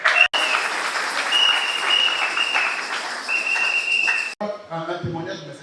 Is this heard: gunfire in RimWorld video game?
no